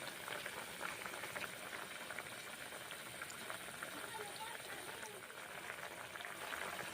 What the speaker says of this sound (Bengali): রান্না করে নিচ্ছি ডাল